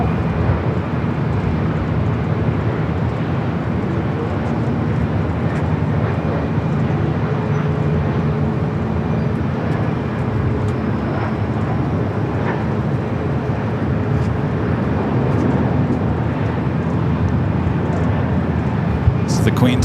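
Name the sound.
jet airliner, flight 457 to Frankfurt, arriving at LAX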